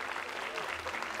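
Theater audience clapping to welcome actress Diana Bracho, a brief, dense burst of applause with a voice faintly mixed in beneath it.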